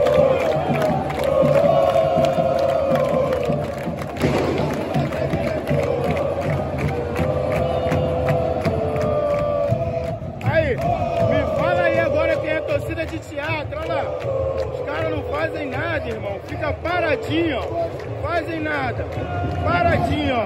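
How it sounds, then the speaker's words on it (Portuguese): Football supporters crowd the stands of Botafogo's Nilton Santos stadium for a Botafogo vs Flamengo match, their dense roar and chanting filling the air continuously and loud, with a nearby voice talking over it. "Estão escutando aí já a torcida, né?"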